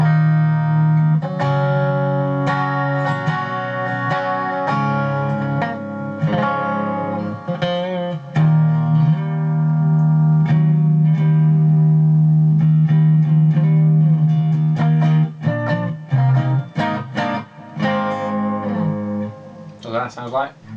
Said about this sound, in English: Single coil and humbucker in the neck.